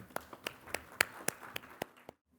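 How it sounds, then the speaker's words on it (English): Scattered claps from a small audience at a cooperative development summit session in Bengaluru, about a dozen distinct sharp hand claps in an uneven rhythm, fairly close, ending abruptly in silence. "Can we have a huge round of applause?"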